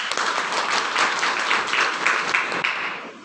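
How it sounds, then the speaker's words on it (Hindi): Audience applause at a talk on success in a cashless India, a loud steady burst of many hands clapping close by for about three seconds, then fading out. "एक बार जोरदार तालियां।"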